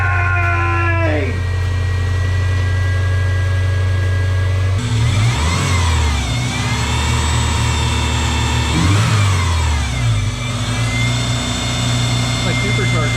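A Subaru engine freshly rebuilt with new head gaskets idles and then revs twice in long rising-and-falling surges, loud and close, with voices talking over it.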